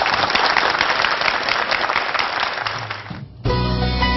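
Audience applause for a professor taking the stage at a televised lecture on brain science: a dense, loud burst of clapping and crowd noise that fades briefly near the end before a steady musical tone cuts in.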